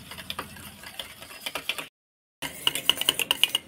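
Yogurt for dahi vada whisked in a bowl gives quick, light metallic clicks and scrapes, close and fairly quiet, broken by a short silent gap before the rapid clicking resumes.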